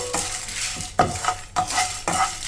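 Dried red chillies and chana dal roast in a hot pan while being stirred, heard as about four loud scraping, rattling spoon strokes over a soft sizzle, close up and without speech.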